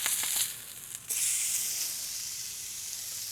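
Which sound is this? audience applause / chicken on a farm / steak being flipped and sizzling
steak being flipped and sizzling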